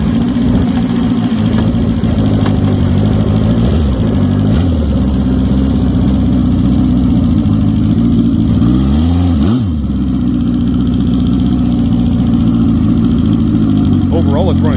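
A tuned Honda CB750 Turbo motorcycle engine runs steadily and loud up close, with a couple of brief revs partway through and a voice talking over it.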